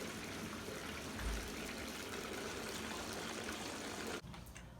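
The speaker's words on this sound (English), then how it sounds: "Alright, we're filling up the waterbed now." Water pours steadily into a waterbed mattress, a continuous close rushing gush that holds level for several seconds before cutting off abruptly near the end, leaving only faint background noise.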